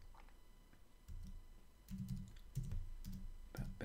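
Keys clack on a computer keyboard in quick, uneven bursts of typing, close but fairly quiet against a soft background hiss, with no voices.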